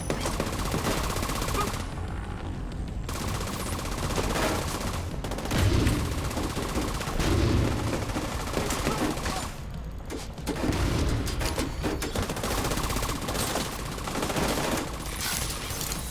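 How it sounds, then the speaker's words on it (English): Sustained automatic gunfire from the video game The Division 2, with dense rapid bursts and heavier booms running almost continuously, broken by short pauses. "Ow! Who's shooting me?"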